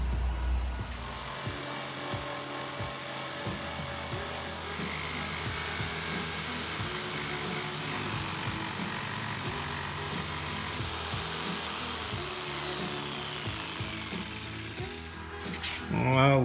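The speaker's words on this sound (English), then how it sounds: "I'm just gonna do this with a jigsaw also" Jigsaw cutting a notch in a six-foot wooden farm table stringer, a loud continuous buzzing saw whine with slight shifts in pitch, running nearly the whole time before stopping at the end.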